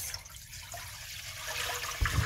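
Broccoli is rinsed again in water, with a continuous splashing, running-water wash and a brief louder gush near the end, fairly quiet and close.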